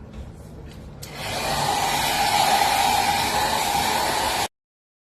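A hair dryer blows to dry alcohol ink artwork on a NARA board, switching on about a second in as a steady, fairly loud broadband rush that holds evenly before cutting off abruptly.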